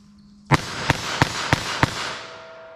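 .22 Magnum rifle rounds fired at a target: five sharp, loud cracks spaced roughly a third of a second apart, each with a short ringing tail, over a faint background hum.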